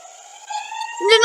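An old 19th-century fire siren holds a steady droning tone, then its pitch swoops sharply upward into a louder wail.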